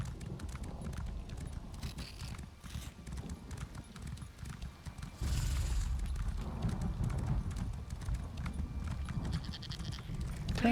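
Sheep bleat faintly in Elder Scrolls Online over a continuous, rhythmic clip-clop of hooves, the scene rising a little in level midway.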